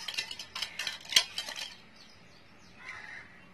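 A spoon beating Dalgona coffee mixture in a cup gives a quick run of close, bright clinking strokes. They stop after about a second and a half, leaving only faint scraping.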